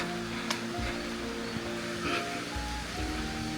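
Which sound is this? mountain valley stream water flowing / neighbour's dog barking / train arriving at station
mountain valley stream water flowing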